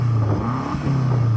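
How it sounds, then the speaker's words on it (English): A BMW M8 engine revs up, a deep rising and falling exhaust note over a second and a half, loud and close with no talk. "so I'm going to start off by revving up this M8"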